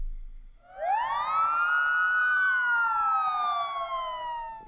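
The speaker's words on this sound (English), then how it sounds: "that's just me playing a note on guitar and then fiddling with a delay pedal" A single sustained guitar note through a delay pedal swoops upward and slowly sags, its echoes stacking into a wailing, police-siren-like sweep, fairly clear against a quiet background.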